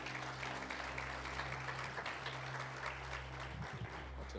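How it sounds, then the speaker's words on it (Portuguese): A church congregation claps loudly in praise, a steady crowd applause of many hands over a low electrical hum from the sound system, fading slightly near the end. "Dê um aplauso bem forte ao Senhor."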